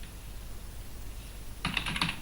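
Quick burst of keystrokes on a computer keyboard while an Excel average formula is typed, a close rapid clatter after a stretch of near silence.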